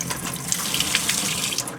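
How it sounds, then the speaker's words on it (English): Tap water runs steadily over tomato seeds held in a small strainer, giving a close, continuous splashing rush with small spattering bursts throughout. "I have this cute little strainer, so it's just easy to run the water over it"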